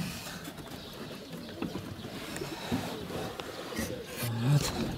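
Pigeons coo faintly near the end, a short low call under steady broadband outdoor noise.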